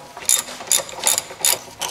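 Ratchet wrench snugging 17 mm caliper bolts on the passenger-side front brake of a 2005 Honda Accord: five short, bright bursts of rapid clicking, close and loud, separated by brief pauses.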